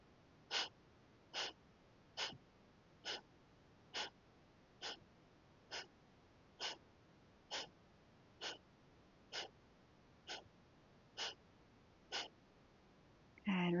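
Fourteen sharp, forceful nasal exhalations come at an even pace of about one per second, a rhythmic yoga breathing exercise, close and alone until a voice begins at the very end.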